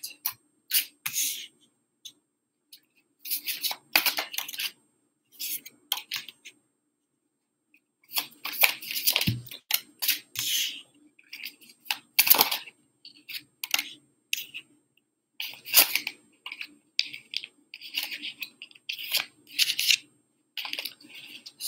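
Tarot cards are pulled and shuffled from a deck, making quick close papery flicks and slaps in irregular bursts with short quiet gaps, without talk.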